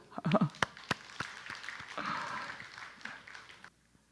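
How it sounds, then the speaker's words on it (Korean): A church congregation breaks into applause during a Korean sermon, a soft swell of clapping that builds and then stops abruptly, with a few scattered nearby taps before it. "우리 하나님께 영광의 박수 합시다."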